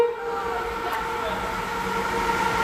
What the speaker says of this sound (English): This is a rare sight, actually. CEY classes passing.